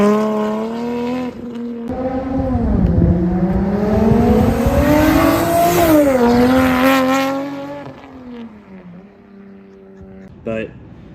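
A 2JZ-swapped BMW E30 with a dual-clutch transmission roars through a run, its exhaust note climbing and dropping through several gear changes, loud and close, before settling into a lower idle-like drone.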